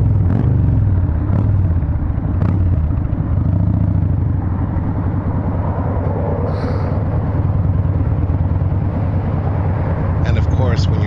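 A 2008 Yamaha Raider 1800 cruiser, heavy with an extra-wide rear tire, rumbles steadily while riding, its deep engine drone continuous and close under occasional wind buffeting.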